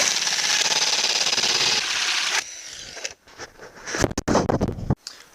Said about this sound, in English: Now it's time to go to all the power locations and drill the holes for the sockets.